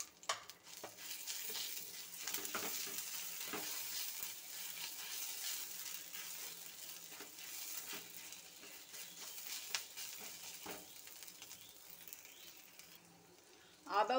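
Grated ginger is stirred into curry leaves frying in a pan for mango rice, making a faint, soft sizzle with occasional light scrapes and clicks of the spoon, fairly quiet throughout.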